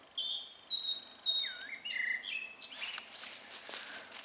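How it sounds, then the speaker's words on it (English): Several birds sing and chirp outdoors on a sunny spring day near an Iron Age hill fort in the English countryside, with clear whistled phrases up front and then a busier, rustling chorus. "Birds are sounding happy."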